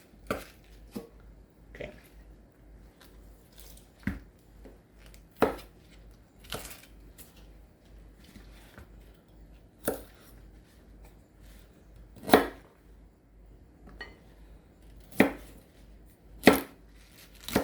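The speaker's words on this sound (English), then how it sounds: "Cut the end. Cut it at an angle. Cut in half." A knife cuts Chinese broccoli (gai lan) stalks on a board in sharp, irregular chops spaced a second or two apart, with a brief spoken word between them in a quiet room.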